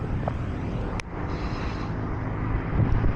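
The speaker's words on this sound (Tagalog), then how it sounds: "Hangin." Wind rushes steadily across the microphone while coasting downhill on a road, a loud continuous roar with a sharp knock partway through and no talking.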